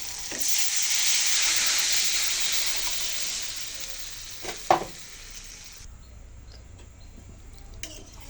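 Water comes to a boil in a pan for a fish curry, a broad bubbling hiss that swells and then fades, interrupted by a short metallic clatter before quieting to a low simmer.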